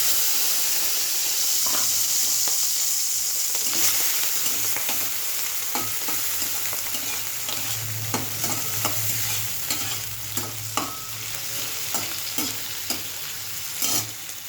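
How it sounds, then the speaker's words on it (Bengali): Prawns frying in oil with a little ghee in a wok, a loud, steady sizzle running throughout with intermittent clinks and scrapes of stirring close by, and no talking. "কড়াইয়ে তেল দিয়ে দিলাম, একবারেই তেলটা দিয়ে দিলাম, অল্প একটু তো একটা ঘি। এই যে বন্ধুরা, চিংড়ি মাছটা আমি দিয়ে দিলাম।"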